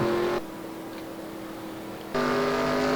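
A Winston Cup race car circulating at Dover during a caution, a steady engine drone with a loud harmonic whine at the start and again near the end, quieter and muffled in between.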